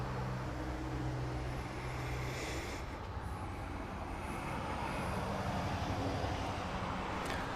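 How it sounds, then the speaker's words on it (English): A 1979 Cayman Airways Express plane arriving at Grand Cayman airport from Little Cayman, heard as a steady, loud engine roar holding throughout with no pause. "Cayman Airways Express Flight 4721. Is just about here."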